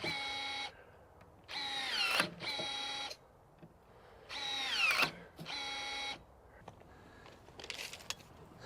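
Milwaukee 3008 M18 cordless telescoping pole pruning shears slicing through a branch nearly 1.5 inches thick in one pass: two cycles of loud, steady electric motor whine, each closing burst ending in a woody crunch, with quiet gaps and no talk.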